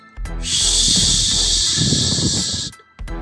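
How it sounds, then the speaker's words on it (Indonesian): A sharp, steady hiss rises and holds for about two seconds, then cuts off, loud and close, as a small black ball flies through the air in a martial-arts story. "sebuah benda bulat hitam sebesar ujung ibu jari melesat ke udara disertai bunyi mendesis tajam"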